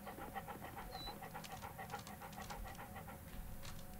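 Toby the dog in a Sherlock Holmes detective game pants steadily in quick, rhythmic breaths with snuffly sniffing, close and continuous over a faint background hum.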